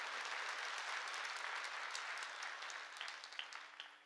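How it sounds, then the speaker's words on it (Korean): Korean church congregation applauding during a sermon: faint, distant crowd clapping that holds steady, then thins out and fades near the end. "믿으면 박수 치라."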